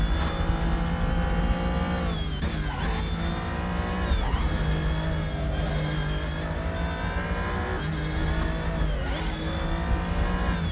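Car engine in Assetto Corsa on the Nordschleife, a steady loud drone rising and falling in pitch as the car shifts up through gears, with brief dips between shifts and no talk.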